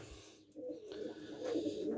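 Domestic pigeons coo softly in a loft with nesting boxes, a low murmuring call rising over faint background noise.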